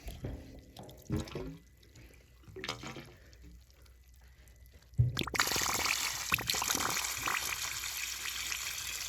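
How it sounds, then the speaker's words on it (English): Water gushes and sputters as it is pumped out of waterlines, starting after a few quiet seconds of faint drips and clatter, then a steady loud rushing flow continues to the end. "She's pumping the water out."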